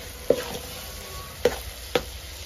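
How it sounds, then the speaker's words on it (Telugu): Ginger garlic paste frying in a pan and being stirred, with three short scraping strokes of a utensil over a faint, steady sizzle, recorded close with no talking. "మంచిగా కలుపుకోవాలి."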